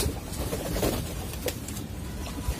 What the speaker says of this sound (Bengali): নর কবুতরগুলো গোসল করতেছে ভিউয়ার্স, অনেক খুশিতে গোসল করতেছে কবুতরগুলো